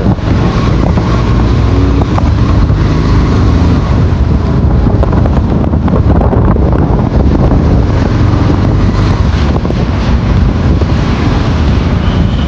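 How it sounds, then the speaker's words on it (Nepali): Strong wind buffets and roars across the microphone continuously, a loud broadband rush with a low rumble beneath it. "कस्तो हावाले चाहिँ हानिदिइरहेको"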